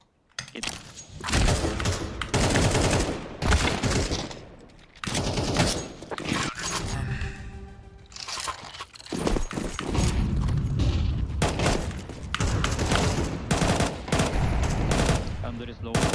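Bursts of rapid automatic gunfire in Counter-Strike, long sprays and short spurts packed close together with brief gaps between, loud and near, with faint talk now and then.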